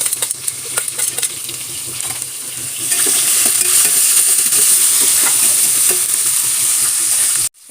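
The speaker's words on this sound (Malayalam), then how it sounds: "നമുക്ക് ഒരു സവാള വളരെ തിന്നായി സ്ലൈസായിട്ട് അരിഞ്ഞത് ഇട്ട് കൊടുക്കാം." Thinly sliced onion drops into a pan of frying nuts, and the hot oil jumps from a steady sizzle to a louder, fuller hiss with occasional stirring scrapes, close and without talk.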